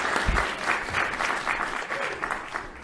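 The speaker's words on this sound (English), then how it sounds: "Let's hear a round of applause again for our students." An audience at a school board meeting claps for students, a dense burst of applause from a roomful of people that carries on steadily and tapers slightly toward the end.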